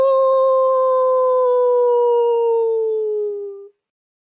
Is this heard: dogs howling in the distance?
yes